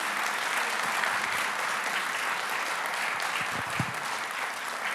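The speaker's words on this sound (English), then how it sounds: "Can we make a round of big applause for all the panelists," A conference audience gives a round of applause for the panelists and presenters at the close of the final panel, a steady wash of clapping from a seated crowd that holds evenly throughout.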